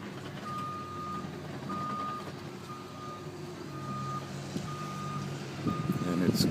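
A garbage truck backs up during flood cleanup, its reversing alarm sounding a steady series of evenly spaced beeps over a low engine rumble and outdoor background noise.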